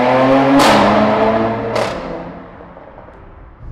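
A Mercedes-Benz C43 AMG convertible with a 3-litre V6 revs twice in quick sharp blips, each bark from engine and exhaust falling back to a lower rumble that fades toward idle.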